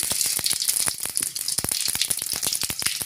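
Half a teaspoon of urad dal crackles and pops in hot oil after mustard seeds, with steady sizzling and a quick series of sharp snaps, close and fairly loud throughout.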